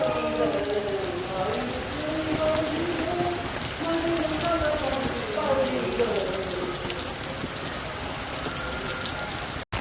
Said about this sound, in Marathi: कारण पाऊस खूप आलेला आहे